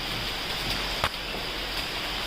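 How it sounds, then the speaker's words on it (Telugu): Heavy rain pours down in a steady, dense outdoor hiss, close and continuous with no voices over it. "రెయిన్ వినండి ఇక్కడ"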